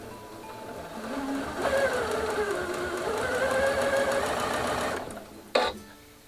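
A Janome Atelier 7 sewing machine runs a straight stitch in one quiet, even whirring burst of a few seconds, followed by a sharp click as it stops.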